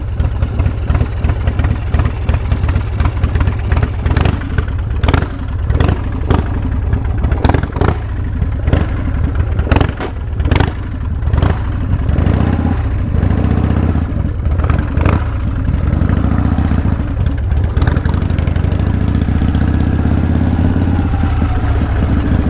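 A vintage Harley-Davidson Softail motorcycle rides along, its engine running steadily and loud throughout, with throttle surges and mechanical clatter but no voices.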